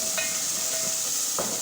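Onions go into hot oil with ajwain, giving a continuous hiss and sizzle with a few faint clinks.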